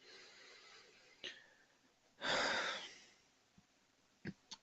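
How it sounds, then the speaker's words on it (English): One long, deep inhalation drawn in through the mouth, close and airy, lasting about a second, framed by a few soft clicks and small mouth noises in an otherwise quiet room. "So taking a deep breath."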